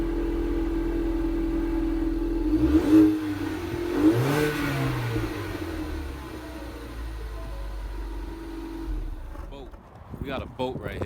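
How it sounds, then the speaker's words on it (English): A car engine revs up strongly at an auction, rising and falling in a couple of loud surges with voices talking nearby. "the engine is real strong"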